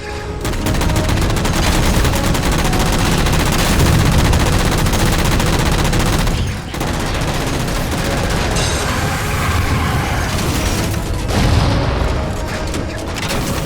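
Gunfire in the video game Halo 4 while shooting down jammers: dense, loud, sustained automatic shooting with booming blasts, continuous with brief pauses near the middle and end.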